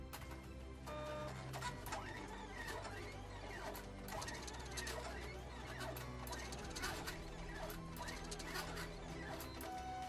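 A Silhouette Cameo cutter slices heat transfer vinyl, its carriage motor whirring and buzzing steadily at close range for the whole stretch with shifting mechanical tones and no talking.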